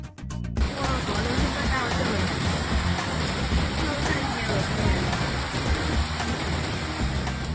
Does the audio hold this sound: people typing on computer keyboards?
no